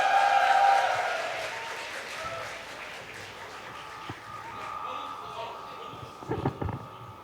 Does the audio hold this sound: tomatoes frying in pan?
no